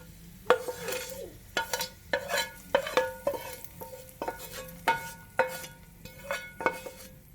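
Fried shallots stirred into a taro root curry in a pan, with a series of clinks and scrapes from a metal spoon against the pan over a low, faint sizzle.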